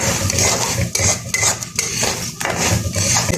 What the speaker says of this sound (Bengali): দেখুন আমার চাউলগুলো একদম কীভাবে ফ্রাই হয়ে যাচ্ছে